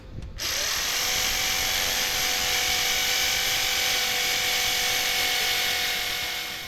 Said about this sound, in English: so let us drill the hole